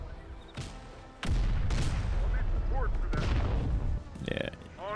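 Artillery guns fire in the Terminator: Dark Fate Defiance video game: heavy booming blasts in quick succession, loud and close, with rumbling gunfire running through the middle and a mechanical whine near the end.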